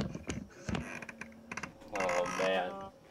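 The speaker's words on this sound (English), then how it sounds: "just what one button sounds like on a mechanical keyboard" A single mechanical keyboard key clacks sharply a few times, followed by a burst of brighter clattering and rattling toward the end, with faint voices nearby.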